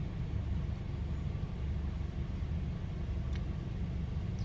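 A 2024 Mercedes-Benz CLA AMG engine idles steadily, a continuous low rumble with no speech that holds constant throughout, as if heard from inside the car or nearby.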